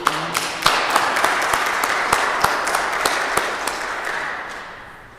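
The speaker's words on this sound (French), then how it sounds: "On peut les applaudir." A church congregation applauds warmly, with many hands clapping in a steady, dense patter that slowly fades toward the end.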